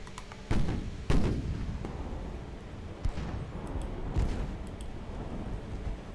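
Naval guns fire in the warship game Ultimate Admiral Dreadnoughts, two sharp booming salvos close together near the start, then softer distant thuds and impacts over a low continuous rumble.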